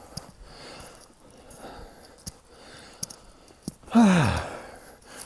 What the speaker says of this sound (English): Why are you hearing a lot of breathing?